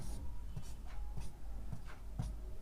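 Chalk or marker strokes on a board while a Class 10 maths problem is worked out: faint, quick tapping and scraping strokes in a loose rhythm, close by and with no talking.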